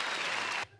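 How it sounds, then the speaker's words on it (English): Canned applause played by a show host over his own live stream, a dense burst of crowd clapping that runs loud and steady, then cuts off abruptly into near silence. "I had to put my own applause on."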